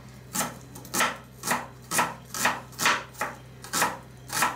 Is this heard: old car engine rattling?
no